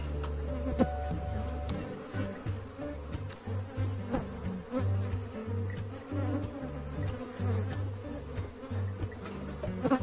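Honey bees buzzing at an open beehive during an inspection, a dense, steady, close hum of many wings with individual insects droning past, continuous with no talking.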